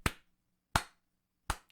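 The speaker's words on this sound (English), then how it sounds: "slow clap to them" Three slow, evenly spaced hand claps about 0.7 seconds apart, sharp and close, ringing out alone with no voices, a deliberate slow clap in praise of a hockey team's draft.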